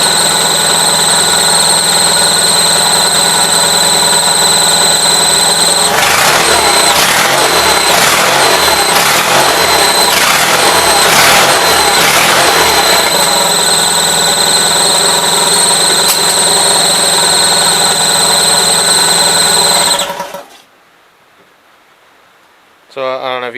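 Newly built 450 engine on its first run, suspected carburetor gasket leak or loose carb, a loud steady idle drone with a stretch of rough rhythmic knocking partway through before cutting off abruptly near the end.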